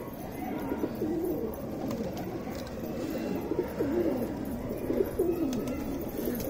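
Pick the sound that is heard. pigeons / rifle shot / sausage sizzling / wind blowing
pigeons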